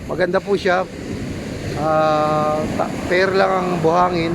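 Broad rushing surf of strong waves on a fine-sand Zambales beach facing the South China Sea, a continuous roar with wind buffeting the microphone, heard beneath a nearby voice talking.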